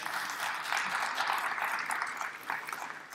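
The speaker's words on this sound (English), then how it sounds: "they're going to applaud" Audience applause at a Maryland State Firemen's Association convention, a short burst of steady clapping from a room full of people, moderately loud and unbroken, tapering slightly at the close.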